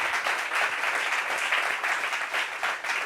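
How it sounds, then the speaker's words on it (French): Steady applause from a crowd, a dense wash of clapping that holds at an even level for the whole few seconds. "Applaudissements pour lui."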